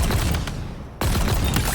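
Two sharp bursts from the Ravager's charged fire mode in Halo Infinite, each a loud crackling blast with a booming tail, the second following after a brief quiet gap.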